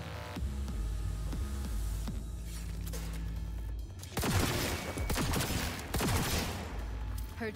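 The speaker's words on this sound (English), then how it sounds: "Heard shots." Bursts of rapid gunfire from a Cyberpunk 2077 firefight, a steady rattle in the second half after quieter mechanical ambience, loud and close.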